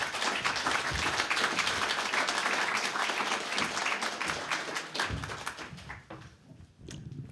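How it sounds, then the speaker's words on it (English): Sustained applause from an audience honoring library staff at a library expansion gala and ribbon cutting, dense clapping across the whole span that thins and fades near the end. "So let's have a round of applause for all of our staff."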